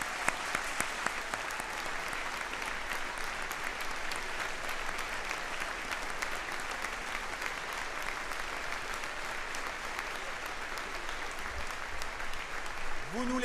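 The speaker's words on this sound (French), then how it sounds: "Levez-vous, qu'on vous salue et qu'on vous applaudisse." An audience at a Parti Québécois congress claps steadily, a broad, even wash of applause that holds for the whole stretch, with a brief voice surfacing near the end.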